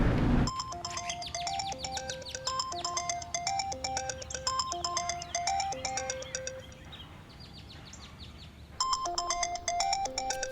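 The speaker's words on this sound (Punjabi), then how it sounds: "ਇੱਕ ਤਾਂ ਸਵੇਰੇ ਸਵੇਰੇ ਫੋਨ ਨਹੀਂ ਟਕਣ ਦਿੰਦੇ" A phone ringtone plays a bright, repeating electronic melody of chirpy tones in the morning, loud and steady for about ten seconds with a brief lull near the end before the tune resumes.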